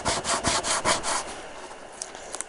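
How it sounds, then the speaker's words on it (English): Fingernails rubbing transfer tape down onto a cut vinyl decal, a series of rapid scratchy strokes at close range that fade toward the end, with a couple of faint clicks after. "I'm going to lay my transfer tape down, use my nails, give it a little rub"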